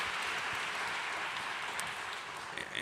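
Audience applause during a live panel talk, a steady broadband wash of clapping sustained for about three seconds without a break.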